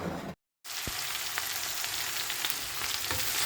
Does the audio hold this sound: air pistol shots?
no